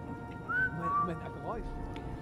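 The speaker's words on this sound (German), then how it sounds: "Warte, ich pfeife mal." A player character in the Sniper Elite 4 video game whistles a couple of short rising and steady notes, fairly faint, over low game ambience.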